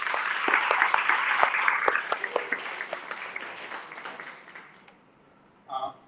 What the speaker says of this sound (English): Please give a warm round of applause for Jose.